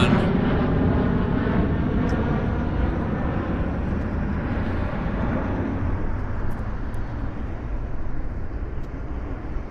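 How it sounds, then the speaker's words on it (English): A jet airliner roars on departure at Vancouver Airport, a loud, broad, steady engine rumble that slowly eases over several seconds, with no talking. "That was a nice stream of departures."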